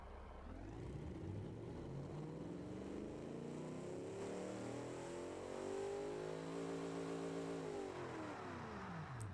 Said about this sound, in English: I think the engine sounds decent